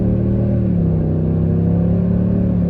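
Toyota Tundra SR5 pickup engine pulling steadily under acceleration, a continuous low droning hum with engine sound piped through the JBL cabin audio system, heard from inside the cab without speech.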